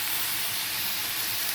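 Curry leaves and raw turmeric frying in oil in a pan for lentil dal, giving a steady close sizzling hiss with no break.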